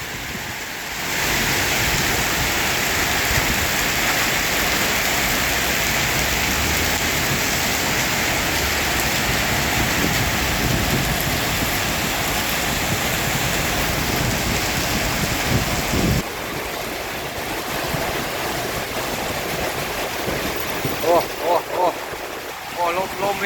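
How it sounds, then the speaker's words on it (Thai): Heavy rain pours steadily, a dense roaring wash with gusting wind that eases slightly near the end, where a few faint knocks come through. "นี่ครับไม่ได้ว่ามาแต่ฝนครับ มาทั้งลมครับพี่น้อง"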